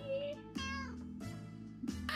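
Cat in the video game 60 Seconds meowing, a few short close calls separated by pauses, clear and fairly quiet.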